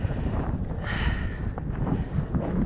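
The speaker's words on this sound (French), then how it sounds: "Ouh, il y a un petit peu de vent." Wind gusting across a mountain slope while hiking with crampons, a steady broadband rush buffeting the microphone up close for the whole stretch, without speech.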